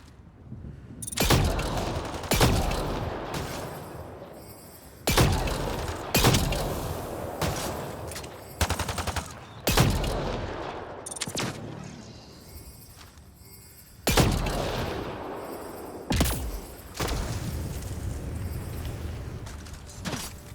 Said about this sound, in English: I want to test this gun's range.